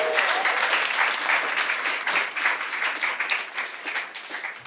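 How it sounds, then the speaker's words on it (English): A live podcast audience applauds a guest with fairly loud, continuous clapping that gradually thins and becomes more uneven toward the end. "let's hear a round of applause for Anna."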